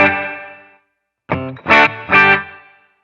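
Electric guitar through a Line 6 Catalyst 100 amp with reverb switched on: a sustained chord rings out and fades, then after a gap three strummed chords follow, each trailing off into a reverberant tail.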